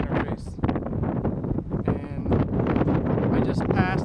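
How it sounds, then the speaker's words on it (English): Strong headwind gusts roar across a hill on an all-day bicycle climb in Washington, with loud continuous buffeting noise that persists throughout. "As you can see, it's very windy."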